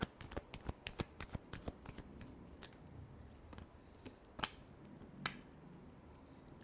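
Tarot cards shuffled by hand up close: a quick run of crisp riffling snaps, then quieter pauses broken by a few sharper flicks, with no talking.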